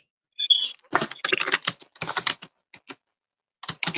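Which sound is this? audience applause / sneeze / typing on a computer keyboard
typing on a computer keyboard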